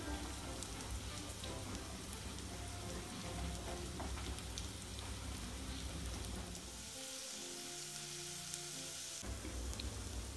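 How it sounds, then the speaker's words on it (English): An onion trio frying in olive oil in a pan over medium-high heat: a dense, continuous sizzle and crackle, close and even, with a short stretch of lower rumbling partway through. "Add some olive oil and put our onion trio inside"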